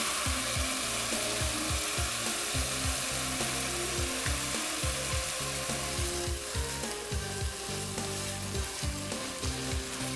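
Garlic and ground beef sauté in a pan, a loud, steady, close sizzle with a rhythmic series of scraping stirs repeating throughout.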